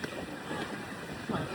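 Wind gusting across the mountainside at Mt. Fuji Yeti ski resort, a steady broadband rush close to the microphone with a stronger buffet near the end.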